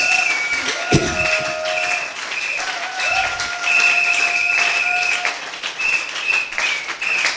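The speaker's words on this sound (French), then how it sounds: "Acclamez très fort pour le Papa" A church congregation applauds and cheers for the Pope, a steady wash of clapping and crowd noise with a sharp tap near the start and sustained tones over the top.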